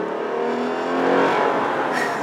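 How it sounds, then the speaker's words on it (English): Exhaust note of a Lexus IS 350 AWD sports sedan, a steady, smooth engine drone heard close and continuous with a slight swell midway, no talking. "And an excellent sound emanating from the exhaust."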